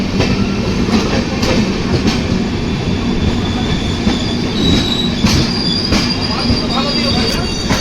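A crowded passenger train on the Bangalore to Puri route rolls along steadily, wheels squealing and rattling over the rails with a constant loud rumble and recurring clicks.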